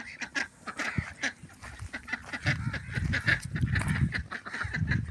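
Ducks in a village give repeated loud, nasal quacks in irregular bursts, close by, several birds calling over one another with no talk.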